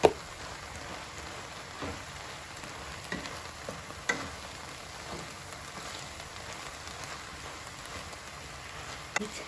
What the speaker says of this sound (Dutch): ik ga hier champignons bij doen